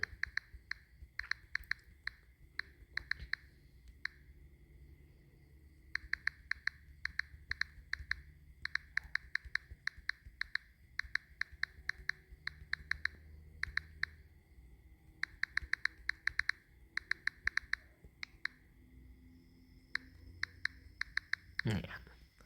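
A welcome post for a Facebook group is typed on a phone's touchscreen keyboard, giving bursts of quick, light, tonal key clicks with short pauses between words, close and fairly quiet.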